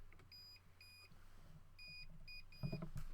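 A handheld cable break detector gives a series of short, thin electronic beeps in an uneven rhythm over a low steady hum, with a soft knock at the end.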